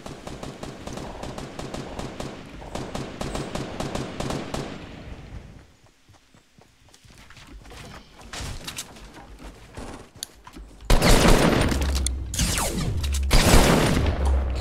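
Bursts of rapid automatic gunfire from a Fortnite Battle Royale match, dense volleys in the first seconds, a quieter lull, then heavy loud firing and explosive cracks near the end, with in-game effects layered throughout.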